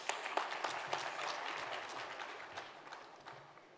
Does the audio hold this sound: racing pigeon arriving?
no